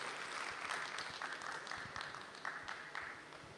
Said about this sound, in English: Can we have a big round of applause for Deepthi and Amit?